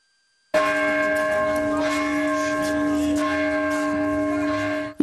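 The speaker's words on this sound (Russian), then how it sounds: "Уже около храма дети начали звонить с колокола, дергая за веревку, которую сбросили для них с колокольни." Children ring a church bell at the cathedral of Prince Vladimir in Astrakhan by pulling a rope dropped from the bell tower; a single loud, near strike rings out and hums steadily with rich sustained overtones.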